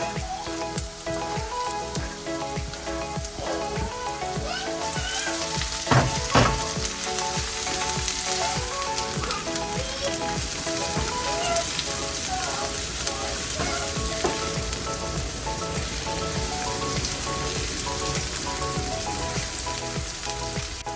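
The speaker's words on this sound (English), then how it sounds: "Put your onions in your pan and add some cooking oil." Onions frying in cooking oil in a pan, sizzling and crackling steadily throughout at a moderate level, with a brief louder burst of spattering in the middle, no voices present.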